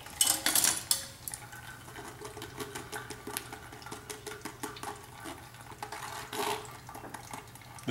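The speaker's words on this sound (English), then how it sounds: "Just strain the whole amount." Watermelon and blackberry granita mixture is strained through a sieve with soft liquid trickling and scraping, broken up by light utensil clinks and taps, close and steady, with no talk.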